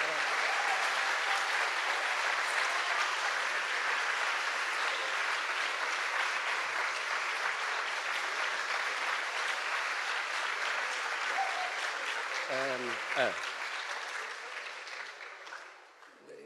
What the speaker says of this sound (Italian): vedo che vi fidate, che applaudite in anticipo